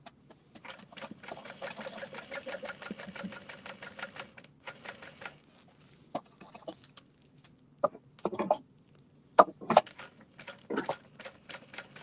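A sewing machine top stitches a fabric baby sling, running in a fast steady rattling burst for several seconds, then stopping and starting in shorter spurts with clicks and handling noises between.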